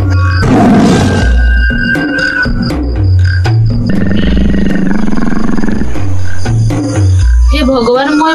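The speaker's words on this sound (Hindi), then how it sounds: "अरे बाघ आसला" A tiger roars loudly in an animated Odia story, rumbling and growling amid a dense, continuous mix of cartoon effects and other sounds.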